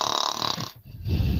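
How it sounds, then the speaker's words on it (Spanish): A character in the Stardew Valley video game snores in one long, rasping breath that dips briefly before swelling again, loud and close with no talk over it. "se escuchan tus ronquidos desde aquí"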